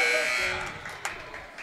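A basketball buzzer sounds at the end of a quarter in a JV school game, a loud sustained electronic tone that starts at once and fades within about half a second, leaving gym noise and a brief voice.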